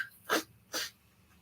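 Two quick, faint sneezes about half a second apart from a person in a quiet room, brief bursts with near silence around them.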